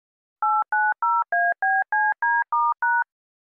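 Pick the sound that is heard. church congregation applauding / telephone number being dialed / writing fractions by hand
telephone number being dialed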